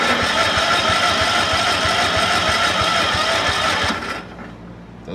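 A Cub Cadet 1450 garden tractor engine cranks on the key starter with rapid, even mechanical pulses for about four seconds, then cuts off abruptly without catching, close and fairly loud.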